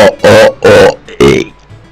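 Three loud, drawn-out burps come close to the microphone in quick succession, the last one shorter, each a deep croaking belch, followed by quieter rumbling sounds during Super Mario Sunshine play.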